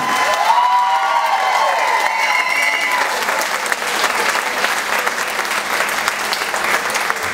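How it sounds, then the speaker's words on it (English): Stage audience at an Elvis Week tribute show in Memphis, Tennessee gives sustained, loud applause with cheering and whoops throughout, a dense continuous roar of clapping. "Please give all these wonderful people up here on stage your biggest round of applause of the week."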